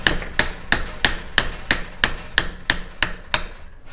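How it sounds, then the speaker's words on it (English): Hammer taps driving an oil seal out of a capstan winch, using only the weight of the hammer: about eleven light, evenly spaced metallic knocks, close and clear, with no voices. "I'm just going to give it some little taps like so. So I'm using the weight of the hammer"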